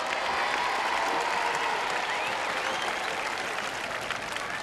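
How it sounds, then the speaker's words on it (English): Audience applause ringing out for celebrity players at a televised charity knockout contest against the Lord's Taverners, sustained steady clapping from a large crowd throughout, loud and close. "A little applause for the celebrities"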